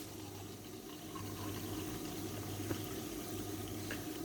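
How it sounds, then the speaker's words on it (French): Water runs steadily from a kitchen tap into a glass, a continuous close hiss and gurgle lasting the whole time with no talking. "on ouvre l'eau"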